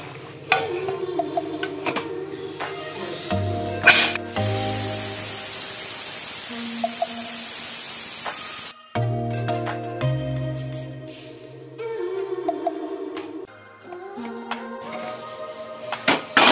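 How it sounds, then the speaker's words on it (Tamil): A pressure cooker holding Indian-style vegetable pasta hisses steam in a loud, steady burst lasting several seconds, between quieter kitchen clatter and stirring sounds, with no speech. "குக்கர் மூடி ஒரு விசில் ஊற்றலாம்."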